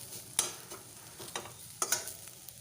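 Taro leaves fry in a pan, a faint low sizzle with a few sharp stirring scrapes and taps punctuating it, close by and without speech.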